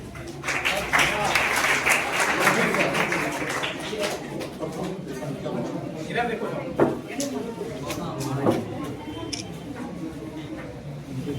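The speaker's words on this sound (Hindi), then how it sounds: "इनकी हौसला अफजाई के लिए आप ताली बजाइए" Audience applause for students at a block-level school quiz competition, a dense burst of clapping in the first few seconds that thins into scattered claps under an ongoing amplified voice.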